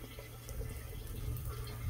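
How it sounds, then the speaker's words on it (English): Motor oil drips from a hot car engine's drain into a catch pan, a steady low liquid trickle with light splashing, close and continuous throughout, no talking. "So while the oil is still dripping out"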